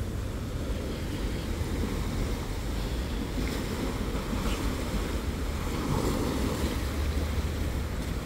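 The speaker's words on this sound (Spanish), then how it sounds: "Ese mar es más gran mar en el mundo." Ocean waves wash onto the beach at Viña del Mar, Chile, a steady, loud rushing surf with wind buffeting the microphone, continuous and close with no pauses.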